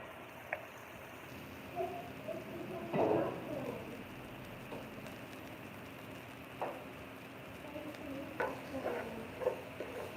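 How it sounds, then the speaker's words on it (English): Soft crackling and sizzling as corn fries in hot oil, with scattered sharp popcorn-like pops, one louder burst early on, steady faint background hiss. "the corn sounds like popcorn"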